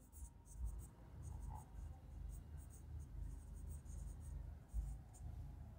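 A pen or chalk scratches out a sum in accounting figures on paper or a board, soft, close scraping strokes in short bursts over quiet background hiss.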